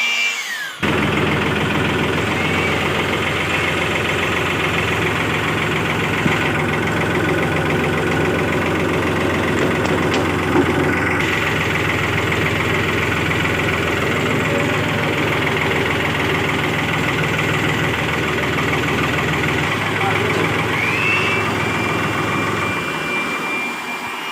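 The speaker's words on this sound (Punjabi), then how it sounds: "ਇਹਨੂੰ ਟਰੈਕਟਰ ਨੂੰ ਸਟਾਰਟ ਕਰਕੇ ਲਾਉਣੇ ਲੱਗੇ" A farm tractor engine started and left running while preparing to make straw chaff, a loud steady close drone with a whining hum that holds evenly throughout before cutting off at the end.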